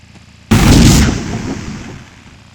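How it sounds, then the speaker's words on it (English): In the video game Teleglitch, a short-range teleporter: after a short quiet moment, a sudden loud whooshing burst hits hard and then fades into a rumbling, decaying tail. "each level is bookended by the use of a short-range teleporter to get across the various sectors of the base"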